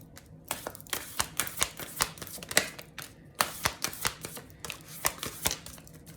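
Tarot cards being shuffled and pulled, a quick run of crisp flicking riffles and soft taps in bursts, close and fairly quiet with no talking.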